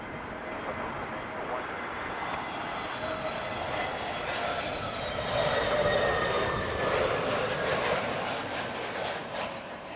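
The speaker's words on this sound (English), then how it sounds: "These flight crews really are making light work of the landings today" An airliner on approach to runway 27 left at Heathrow Airport, a steady broad jet roar that swells to its loudest midway as the aircraft passes, then holds on; a faint voice may sit underneath.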